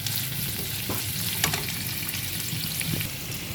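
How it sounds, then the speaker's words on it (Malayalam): Evenly sliced onions frying in hot sunflower oil give a steady, loud sizzle throughout, with a few soft stirring clinks. "സൺഫ്ലവർ ഓയിൽ ചൂടായിട്ടുണ്ട്. നമുക്ക് സവാള ചേർത്ത് കൊടുക്കാം."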